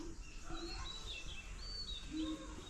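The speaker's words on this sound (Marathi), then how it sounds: "पाऊस लागला काल संध्याकाळी भरपूर असा त्याच्यामुळे ना पाखरं भरपूर आलेली आहेत" Faint birds chirp and tweet in the distance on a morning after heavy evening rain, scattered short calls over a soft background hiss.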